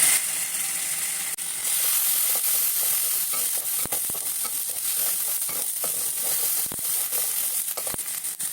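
Steady, close sizzling of garlic and ginger paste frying in hot oil, with a few sharp scrapes and clicks from stirring now and then.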